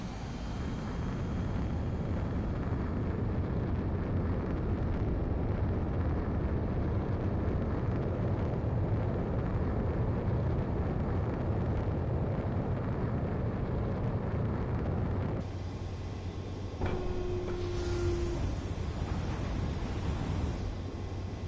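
A fighter jet in Ace Combat 7 roars steadily through its takeoff run, a loud continuous engine rush that shifts tone near the end, with no talk.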